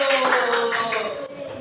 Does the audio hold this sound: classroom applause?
yes